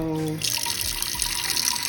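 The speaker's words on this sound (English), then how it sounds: "the next step is for me to fill a bowl with room temperature water" Room-temperature tap water running from a faucet into a bowl at a sink, a steady, close splashing stream that starts abruptly after a short tone and continues to the end.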